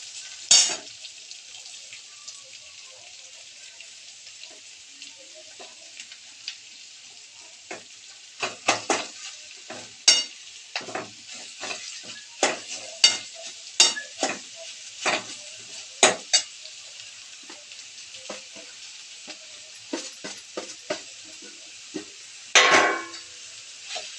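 Grated carrot stir-fried in a pan for carrot halwa, a steady soft sizzle broken by repeated scraping and clinking of a spoon against the pan, close and alone with no talk.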